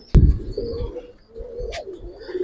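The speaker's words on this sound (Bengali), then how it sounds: "অনেক ভালো কবুতর, অনেক ভালো কবুতর।" Pigeons coo at a farm selling Giribaz and fancy coloured breeds, soft throaty coos close by with a sharp flutter or tap at the start and a brief chirp later.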